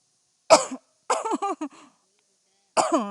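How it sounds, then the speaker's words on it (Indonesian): A person coughs in a school setting: a sharp cough, then a short burst of several rapid coughs, and after a pause one more cough, close to the microphone against near silence. "Kok jadi batuk ya?"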